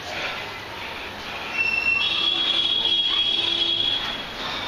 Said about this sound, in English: I can hear vehicles going from outside.